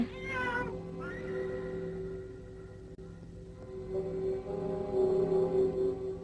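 A cat meows in a long, drawn-out wavering cry near the start, followed by softer sustained mewing and background tones through the rest, moderately loud and close.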